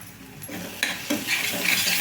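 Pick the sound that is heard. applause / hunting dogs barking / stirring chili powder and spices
stirring chili powder and spices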